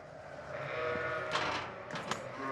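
Sheep and young lambs about two or three weeks old bleat on a farm, several overlapping calls over a steady outdoor background with no talk.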